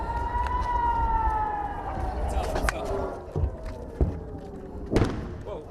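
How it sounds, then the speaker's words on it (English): Air raid sirens wail during rocket fire from Gaza in a town in Israel. A loud, falling siren tone fades under voices, broken by a few dull thumps toward the end. "the sirens are near non-stop in towns close by"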